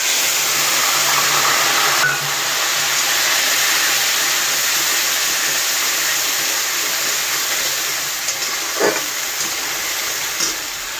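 A loud, steady sizzle and hiss of ginger, garlic, onion and tomato paste frying with potatoes in hot oil, close and continuous with a few sharp crackles toward the end.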